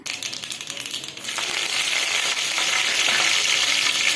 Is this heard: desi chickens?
no